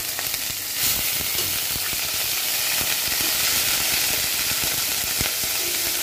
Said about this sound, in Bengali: দিয়ে দিচ্ছি 2 টেবিল করে পেঁয়াজ বাটা।